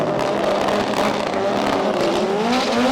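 Front-wheel-drive drag racing cars in a Competition Clutch FWD Drag Series round launch after burnouts, a loud sustained engine roar with rising revs climbing in pitch, close and continuous.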